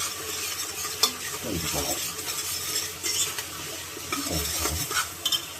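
Chili powder being stirred into egg biryani in a pan, a spoon scraping and clinking against the metal over a low sizzle in irregular strokes, close and moderately loud with no talk.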